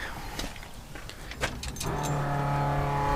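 Keys jingle and click, then a Chevrolet C/10 truck engine cranks and catches, settling into a steady, close idle hum.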